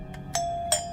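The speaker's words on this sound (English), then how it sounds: "But then the doorbell rang again." A doorbell rings indoors with three bright chime tones, the last two louder and longer, sounding alone over a low background hum.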